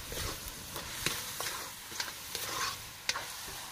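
Seasoned ground pork, with salt, pepper and oyster sauce, sizzles in a pan while being stirred, a close continuous fry with scattered scraping clicks of the utensil against the pan.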